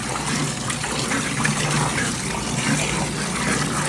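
Water gushes steadily from an opened pump strainer in a mechanical room during cleaning, a continuous broadband rush at close range with no break.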